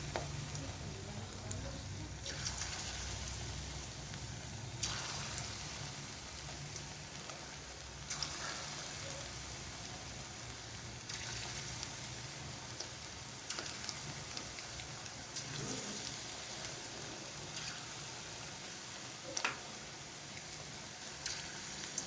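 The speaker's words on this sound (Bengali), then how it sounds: "এবারে আমি মাছগুলোকে একটা একটা করে পকোড়ার মতন ছেড়ে যাব" Steady crackling sizzle of batter-coated fish pieces frying in hot oil, continuous and fairly loud throughout with occasional sharper pops, no voices.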